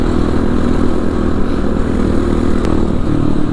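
Kawasaki KLX 450 supermoto motorcycle ridden hard on the street, its engine droning loud and close throughout with a steady low-pitched roar and no talk.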